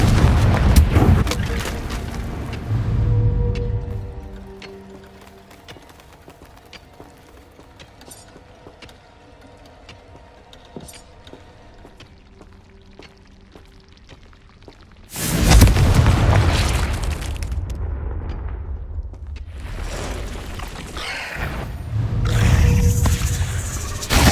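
Fiery spell blasts in Hogwarts Legacy: a loud booming burst at the start, a quieter stretch of faint clicks and tones, then two more heavy, roaring explosions later, broad and rumbling up close.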